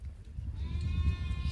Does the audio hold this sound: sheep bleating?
yes